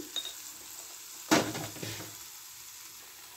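Turmeric, chilli and coriander powder hit a hot pan with a sudden short sizzle, followed by a brief scrape of stirring that fades back to quiet, close and fairly soft.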